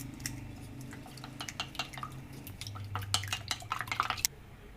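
Two eggs are beaten in a bowl in a home kitchen, with quick, irregular light clicks and taps of a utensil against the bowl over a low background hum.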